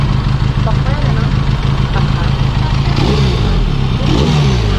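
A Benelli Leoncino 500cc motorcycle engine revs loudly and roughly up close, a steady growling rumble, with voices talking over it.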